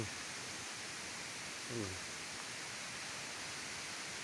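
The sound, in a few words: Huai Mae I waterfall flowing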